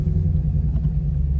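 A Mercedes S550 engine starting up gives a brief, steady low rumble heard from inside the car, with no talking.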